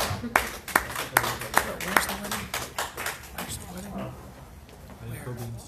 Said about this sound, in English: So round of applause for Rabbi Wolbe.